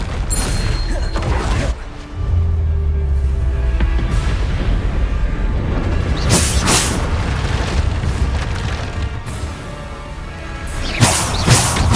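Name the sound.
Bombarda blasting spell explosions in the Hogwarts Legacy video game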